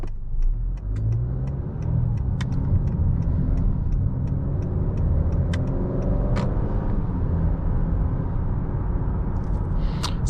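Road noise inside the cabin of a 2020 Honda Accord EX-L 2.0T on the move, a steady low rumble and whoosh with a soft rise in engine tone and faint ticking clicks.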